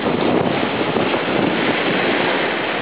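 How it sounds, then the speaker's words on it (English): Waves crash against the rocks on a windy beach at Roberts Creek on the BC west coast, forming a dense, continuous roar of surf and wind that stays loud and even throughout, with heavy wind buffeting on the microphone and no voices. "There's some waves crashing against the rocks here"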